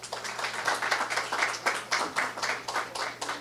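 Audience applause at a Brazilian election candidate interview event, rhythmic clapping in distinct pulsing bursts, fairly close and steady, with a low hum underneath.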